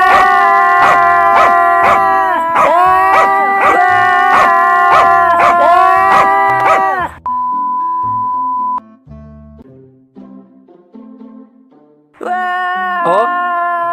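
A cartoon dog's howls and barks ring out in loud, tonal bursts over a music-like backdrop, dropping to quieter yips midway before the loud howling returns.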